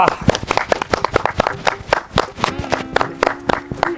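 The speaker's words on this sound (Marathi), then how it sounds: "ए टाळ्या वाजवू ना" Several people clap in a quick, fairly even rhythm, sharp close claps repeating throughout, with voices talking underneath.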